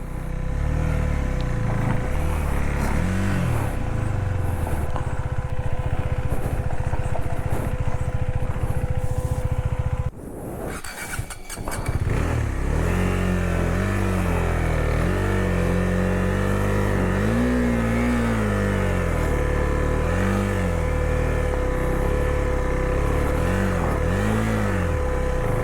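KTM Duke motorcycle ride over loose gravel on a hill road between Darjeeling and Gangtok, a continuous engine drone with rising and falling revs, briefly interrupted by a rough burst of wind or gravel noise.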